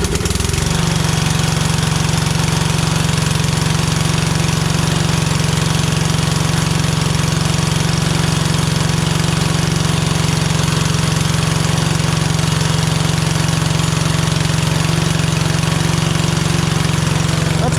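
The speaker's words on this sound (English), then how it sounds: "we'll just see if this engine starts" A Craftsman LT2000 lawn tractor's repowered engine catches and settles into a steady, loud, close idle with a constant low drone, with no talk over it.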